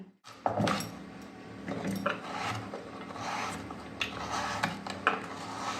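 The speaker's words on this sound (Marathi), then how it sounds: "हे पहा, या बटाट्याचे मी उभे काप करत आहे." Peeled potatoes sliced lengthwise on a vili, a traditional floor-mounted curved blade, give repeated close rasping, scraping cuts with light knocks, steady and alone.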